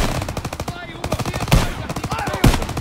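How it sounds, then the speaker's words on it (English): Machine gun fire in Call of Duty WW2, rapid loud bursts of automatic shots with a few heavier explosive cracks, continuous through the stretch. "MG itu nama artinya machine gun"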